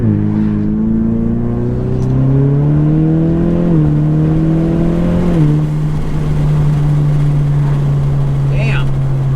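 Ford EcoBoost car accelerating hard at full throttle, the engine note climbing steadily through two upshifts, loud and close from inside the cabin, with a brief voice near the end.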